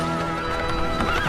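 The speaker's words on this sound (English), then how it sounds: "Horses were pulling a hearse and galloping up the steps ahead of him." Horses whinny loudly and hooves clip-clop close by as they gallop pulling a hearse up a set of steps, a short dramatized burst of neighing over busy hoofbeats.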